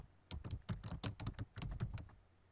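Fingers type a short word on a computer keyboard, a quick burst of a dozen or so soft key clicks in an uneven rhythm, close and quiet with no talking.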